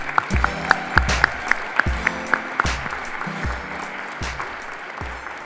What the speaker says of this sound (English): So let's give a round of applause for our 5 teachers.